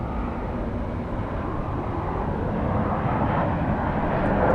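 Near LAX airport, a Boeing 737 airliner on final approach makes a steady, moderate jet roar that swells slightly toward the end and has no talk over it.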